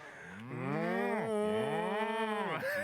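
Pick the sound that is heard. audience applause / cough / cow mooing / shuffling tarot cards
cow mooing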